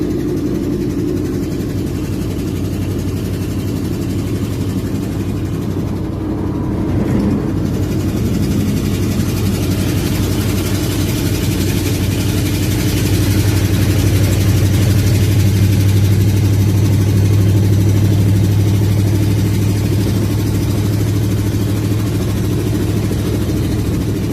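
An engine with a cracked spark plug idles steadily close by for about twenty-four seconds, a loud continuous low rumble with slight unevenness and a mild rise in drone midway, no voices.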